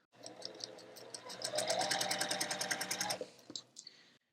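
A sewing machine stitches quilt block fabric in one continuous run of about three seconds, a rapid, even mechanical chatter that speeds up and then stops, followed by a few faint handling clicks.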